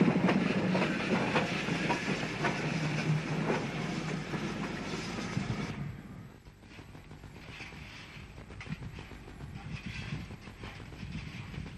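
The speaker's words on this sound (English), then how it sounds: "Having run round its train, the tank engine shunts the stock into the other platform before departure" A steam tank engine shunts passenger carriages into another station platform, giving a steady rolling rumble with hiss and wheel clatter that drops to a quieter, distant rumble halfway through.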